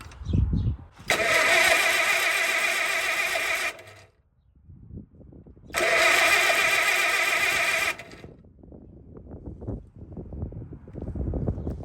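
An Allis Chalmers WD45 tractor with starter trouble being cranked: two loud, sustained bursts of starter grinding, each a few seconds long, separated by a short quiet gap, with softer rumbling and wind noise around them.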